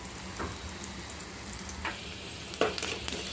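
Onions frying in a pan with fried matki sprouts added, a moderate steady sizzle with a few scraping stirs and one sharper clatter near the end.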